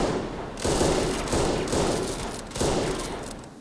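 Heavy booming artillery fire rolls in repeated bursts, loud and dense, in a Rusted Warfare real-time strategy game battle with German army forces.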